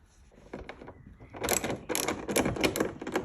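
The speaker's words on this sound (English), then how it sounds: "Again, 13mm socket on there." Mechanical clicks from a 13mm socket ratchet working a long rear wing bolt on a Porsche 992 GT3, faint at first and then a steady close run of sharp ratcheting strokes.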